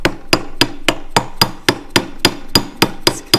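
Quick, even hammer taps drive a part onto an Oliver Super 55 hydraulic pump, about a dozen crisp close strikes at a steady rhythm of roughly four per second.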